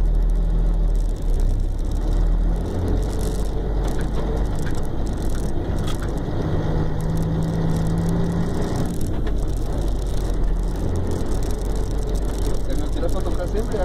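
Mercedes-Benz LS1935 truck driving along with a loud, steady low engine drone and road rumble throughout, gears shifted without using the clutch, with voices talking inside the cab.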